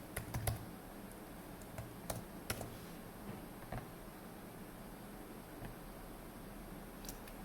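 Fingers tap out a password on a computer keyboard, a run of quiet, irregular key clicks with a few sharper strokes near the start, fairly close but faint over a soft background hiss; nobody speaks.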